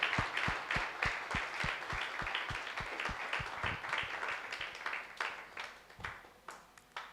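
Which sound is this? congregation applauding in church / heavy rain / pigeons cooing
congregation applauding in church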